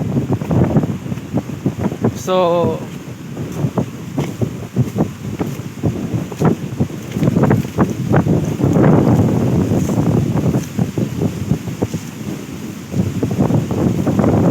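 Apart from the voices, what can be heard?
strong waves and wind at sea off Burias Island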